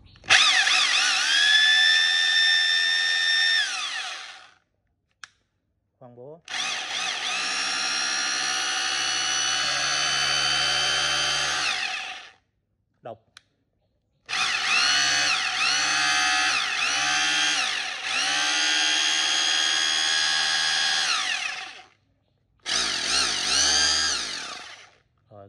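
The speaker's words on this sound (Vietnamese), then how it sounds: "3 chức năng, khoan thường, khoan búa và độc nha." A three-function hammer drill runs in several long bursts, a loud high whine near the mic that stops and restarts with short gaps between runs.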